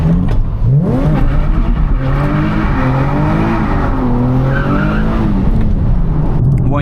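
A tuned Nissan 370Z with an open differential revs hard as its tires skid and squeal, the engine note rising and falling loudly and continuously with no talking.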